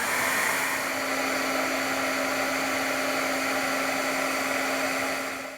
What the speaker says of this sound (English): So I'm going to go ahead and emboss this.